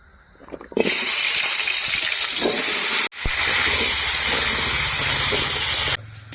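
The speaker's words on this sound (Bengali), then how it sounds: "এখন আমি কুমড়োগুলো ভেজে নেব" Pumpkin pieces frying in a pan, heard as a loud, steady hiss and sizzle that starts abruptly, breaks off for an instant midway, then resumes until the end.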